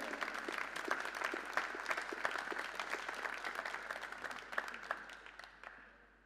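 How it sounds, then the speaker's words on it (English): Audience at a world team pool championship final applauding a team, dense continuous clapping with a few sharper individual claps standing out, somewhat distant and soft, tapering off at the end. "Congratulations and give them a big hand of applause"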